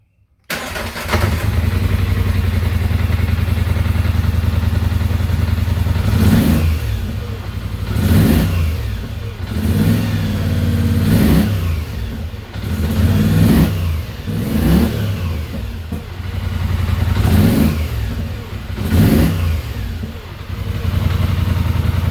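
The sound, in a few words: Polaris Sportsman 850 ATV engine revving with throttle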